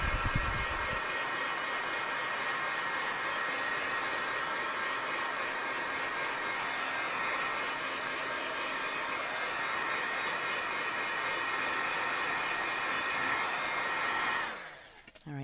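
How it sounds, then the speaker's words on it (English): A heat tool blows a loud, steady hot-air roar close by to set embossing on a card, running continuously for about fourteen seconds before it switches off and winds down at the end. "I'm just going to take the heat tool to this real quick just to set it."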